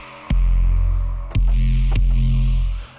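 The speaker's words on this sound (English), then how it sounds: "it's a sine wave, but it's running through a lot of distortion" A sine-wave bass synth patch in an Ableton Live instrument rack, pushed through heavy distortion, plays a few loud, buzzing sustained notes with sharp attacks, each held and then cut off.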